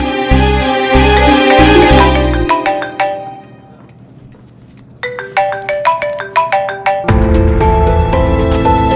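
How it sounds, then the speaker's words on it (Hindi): A melodic phone ringtone plays loudly over a low-pitched musical bed, stops briefly, then rings again in a repeating chime pattern before background music swells back in. "फोन क्यों नहीं उठा रहे हो?"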